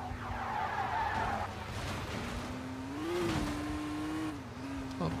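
A car in the video game Car Simulator 2 drives along with a steady engine hum that rises in pitch as it accelerates, with brief tire squeals and whooshes, moderately quiet and without voices.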